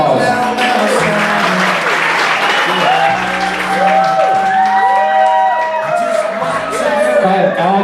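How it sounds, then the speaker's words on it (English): Wedding guests break into a sustained round of clapping and cheering at a reception, the applause filling the room steadily with a few whoops and voices mixed in, while music plays faintly underneath. "Let's give him a round of applause."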